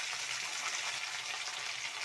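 Onions, curry leaves, green chillies and ginger-garlic paste frying in oil in a pan, a steady dense hiss that stays even and close throughout.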